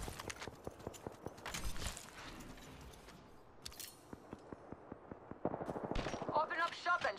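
Rapid bursts of gunfire crackle through a match of the video game Apex Legends, the sharp shots coming in quick runs with short pauses, and a voice speaks in places.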